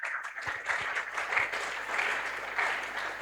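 A church congregation claps and cheers at a spiritual emphasis week service, a steady dense wash of applause sustained throughout with a few low thumps near the start.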